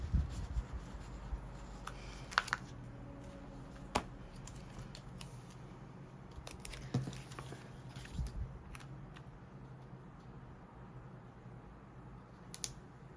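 A pen writes in a Happy Planner Big, making faint, close scratchy strokes broken by small taps and page rustles over a low room hum, with no talking.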